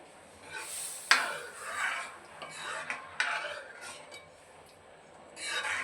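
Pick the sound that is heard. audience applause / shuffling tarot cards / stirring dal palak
stirring dal palak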